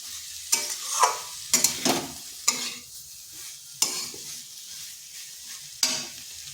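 Spice paste for cauliflower stalk curry stir-fried in a pan: a soft sizzle under repeated distinct scrapes and knocks of a spatula, about six strokes spaced unevenly, close and clear with no voices.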